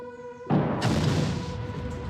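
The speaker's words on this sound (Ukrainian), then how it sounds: "Постріл." A steady hum is broken by a single gunshot blast, followed by a long rumbling decay.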